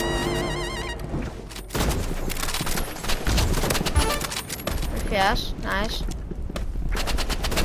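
Automatic gunfire in the video game Rivals, a dense, continuous rattle of rapid shots that runs without pause, loud and close, with someone speaking briefly over it and backing music.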